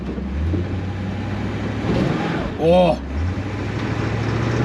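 A junk 1967 Chevy Camaro with only its front brakes working runs with a steady, low engine drone close by, and a person briefly exclaims over it partway through.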